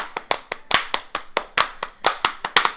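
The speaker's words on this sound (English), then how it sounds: "I just think we should applaud Mama for that" A small group claps for Mama, a sparse run of about a dozen distinct hand claps at an uneven pace, close and clear with no talk over them.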